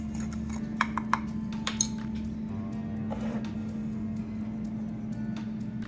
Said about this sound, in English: I'm just gonna give it a little stir.